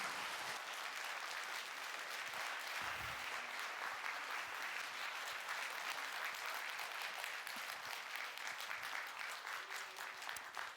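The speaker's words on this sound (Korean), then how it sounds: "우리 사모하는 만큼 큰 박수로 모시도록 하겠습니다." A church congregation in Seoul applauds during a spring revival service to welcome a guest pastor, producing a long, sustained, even wash of clapping that stays fairly soft and distant throughout.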